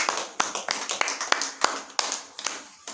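A small audience at a talk on health claps in sparse, uneven bursts, individual sharp hand claps close by with gaps between them and a voice talking underneath.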